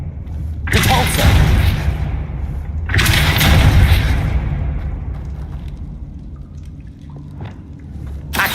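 A spell cast in the video game Hogwarts Legacy lands as two loud, broad blasts of roaring noise with a deep booming low end, about two seconds apart, followed by a quieter rumbling tail and faint scattered effects.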